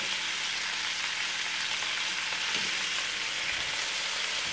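Vegetarian fried noodles sizzling in a wok, with a steady close hiss of frying and faint stirring scrapes.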